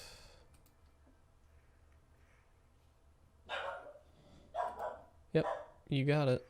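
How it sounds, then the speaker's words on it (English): After a quiet stretch, a dog gives several sharp barks in close succession, loud and nearby, with a person briefly speaking in between. "Sorry for the dog barking"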